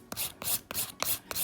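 An electric nail file rasps along the nail sidewall in five quick, evenly spaced strokes, close and fairly quiet, with no talking.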